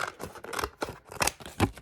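Scissors snip through paper to make strips for a collage portrait, several quick close cuts in an irregular rhythm, crisp and fairly loud, with no talking.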